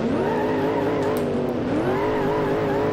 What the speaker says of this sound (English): I'm trying to listen to the engine.